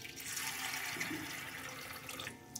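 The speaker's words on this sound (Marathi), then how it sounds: "त्यामध्ये आपण आता पाणी घालूया" Water pours into a bowl of sago in a steady faint splashing stream, close and unbroken, with no talk.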